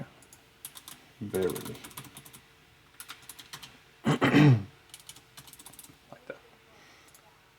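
Bursts of typing on a computer keyboard, with two dense flurries of clacking keys among scattered single taps, close and moderately quiet, while someone speaks briefly in between.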